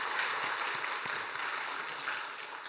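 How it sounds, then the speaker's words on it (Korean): A church congregation applauds the choir at a New Year's Sunday worship service, steady even clapping spread across a large room, fading slightly toward the end. "한 해 동안도 우리 시온 찬양대가 더 잘할 수 있도록 박수 한번 해주시기 바랍니다."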